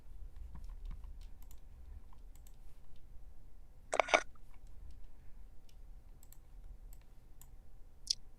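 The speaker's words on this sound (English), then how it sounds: "I'm just typing." Light taps on a computer keyboard sound sparsely, with a brief flurry of quick clicks midway and isolated key presses scattered across a quiet room background.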